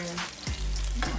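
Sweet plantains fry in a pan with a steady, loud sizzle, punctuated by a couple of scraping stirs, with no talking over it.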